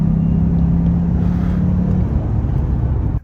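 An Acura TL engine pulls hard through paddle-shifted gears, a loud close droning rumble holding steady before shifting and cutting off abruptly at the end.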